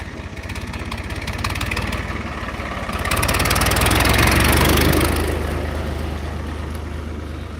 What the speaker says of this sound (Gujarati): આ બાજુમાં રસ્તો છે એટલા માટે અવાજ આવે છે વાહન જતા હોય બાઇકના કે ટ્રેક્ટરના